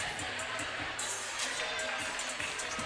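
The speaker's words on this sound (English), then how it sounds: "Got a pretty decent crowd here, folks," A crowd murmurs and cheers in the gymnasium at a high school basketball game between the Booneville Bearcats and the Elkins Elks. The roar is steady and echoing, with faint sneaker squeaks, and a voice talks over it.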